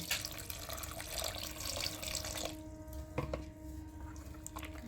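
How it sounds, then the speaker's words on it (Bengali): Water trickles and splashes into a bowl of rice-flour batter for sorucakli pitha, a quiet, steady pour close by that tapers into a few drips. "এবার আমি দেব জল।"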